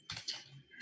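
A brief, quiet burst of a few clicking keystrokes on a computer keyboard, heard close up with no voices.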